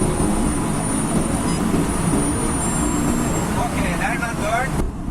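A Honda car on a Hondata K-series tune accelerates in third gear, giving a steady, rumbling engine and road drone with a rising whine near the end.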